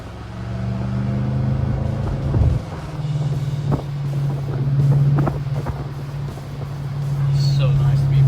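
BMW M5 engine idling and revving with a steady low drone, loud and close, with wind buffeting and people talking over it.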